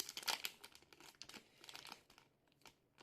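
Foil wrapper of a Korean Pokémon card booster pack being torn open, a few close, crisp crinkling rips in quick bursts with short pauses, no talking.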